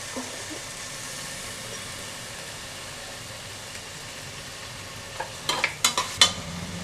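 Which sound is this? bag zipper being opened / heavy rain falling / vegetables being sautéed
vegetables being sautéed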